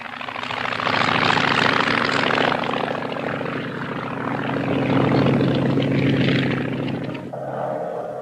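A 1950s aircraft engine starting up and running, a loud, steady propeller drone that swells and recedes slightly before dropping off near the end.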